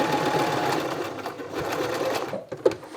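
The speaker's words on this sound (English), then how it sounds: "let's do the longer stitch and no back tack, just sewing from one side" A sewing machine runs a long straight stitch without backtacking to lay a row of gathering stitches on thrifted clothing, a continuous close whir with a small click as it stops.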